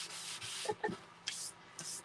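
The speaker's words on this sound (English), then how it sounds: "Now I'm going to sand across this" Short strokes of sandpaper rubbing across a surface, several quick scratchy passes with brief pauses between them, close and fairly quiet.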